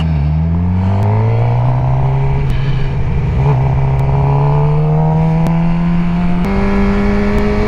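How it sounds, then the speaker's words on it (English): Road traffic heard from a moving motorcycle, with a steady engine drone that rises slowly in pitch and a loud, continuous rush of wind and passing vehicles. "Too many cars."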